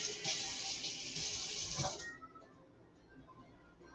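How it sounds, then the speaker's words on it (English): Water poured or run onto a leftover butter roll in a kitchen, a close, loud hiss of flowing water that stops abruptly halfway, leaving faint room noise. "Put a little bit of water on it."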